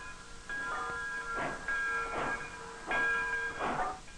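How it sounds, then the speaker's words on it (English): A narrow gauge railroad train hauls logs toward a mill near the Rio Paraguay in 1950s Paraguay, giving four rhythmic hissing chuffs over steady tonal ringing, moderately loud and with no voices. "A narrow gauge railroad hauls the logs to the mill located near the Rio Paraguay."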